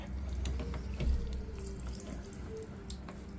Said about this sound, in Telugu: ఓపెన్ చేస్తే అసలు ఇందులో ఇట్లా వాటర్ వస్తుంది